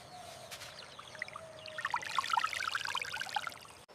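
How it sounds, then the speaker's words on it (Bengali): Water seeps and trickles into a hole dug in sand, making a quiet, close bubbling dribble that grows busier partway through and then stops. "বালি খুঁড়ে জল বার করছি, আর সেই স্বচ্ছ জল খাবো আমি।"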